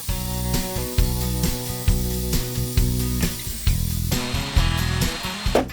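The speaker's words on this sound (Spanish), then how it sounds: "Ahora voy a emparejar los círculos con la lijadora de banda." A belt sander evens up cut wooden circles, its motor humming steadily with repeated rhythmic surges and scraping bursts as each piece is pressed against the belt, close and loud.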